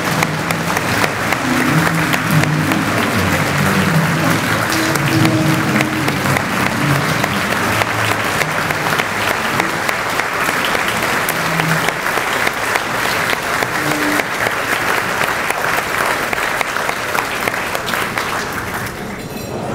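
Sustained audience applause at a Beverly community breakfast honoring members for their achievements, a dense steady wash of clapping lasting nearly twenty seconds before easing slightly at the end.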